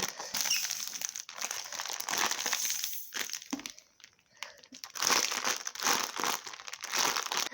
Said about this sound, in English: you can hear the sound of the crisp packet just going down